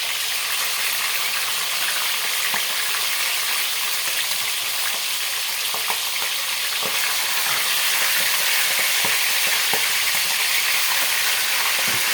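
Milkfish frying in hot oil in a home kitchen, a loud continuous close sizzle with scattered pops and crackles throughout, no voices.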